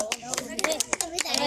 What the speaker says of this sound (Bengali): হাততালি হবে